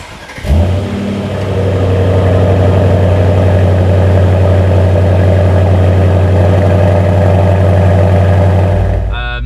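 An Aston Martin DBX revs hard through a stainless sport exhaust, holding a loud, deep exhaust roar close by, with a rumbling low tone throughout before it cuts off at the end.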